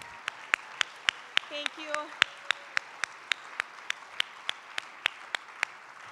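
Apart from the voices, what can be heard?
audience applause for the team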